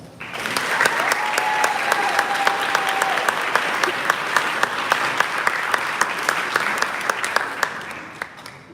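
Sustained applause from a debate tournament finals audience as the tournament director comes to the stage, dense clapping with scattered sharper claps, steady for several seconds then tapering at the end.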